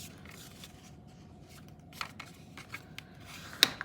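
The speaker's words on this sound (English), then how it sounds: "I'm gonna take this whole stack of folded ones and I'm gonna fold it back to this center fold line" A stack of folded paper pages is folded back and creased with quiet rustles and light crinkles, then a crisper snap of paper near the end.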